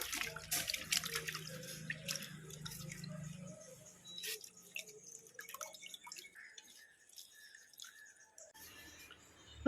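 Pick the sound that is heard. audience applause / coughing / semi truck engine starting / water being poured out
water being poured out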